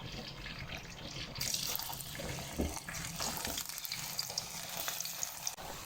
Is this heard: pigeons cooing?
no